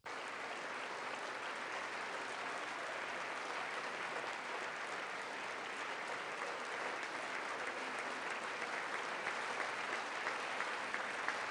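Steady, distant applause from the chamber audience at Trump's State of the Union address, a flat continuous wash of clapping with no voices over it.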